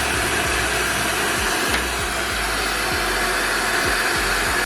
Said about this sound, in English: you are gonna need your blow dryer so you can dry it down